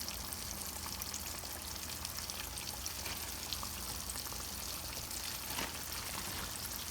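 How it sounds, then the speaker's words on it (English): Three small catfish pieces frying in hot oil in a pan give off a continuous, even sizzle and crackle at moderate level, with no talking. "Let those fry for about 5 to 6 minutes, depending on how crispy you want it"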